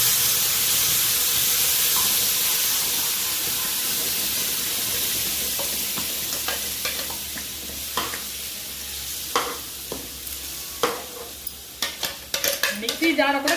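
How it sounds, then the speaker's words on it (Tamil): Tomato paste hitting hot oil with curry leaves and chili in a pan for thakkali thokku, a steady sizzle and frying hiss with occasional stirring clinks and scrapes that grow busier toward the end; no talking. "இந்த தக்காளி தூக்கி அதை ஊற்றிடும்."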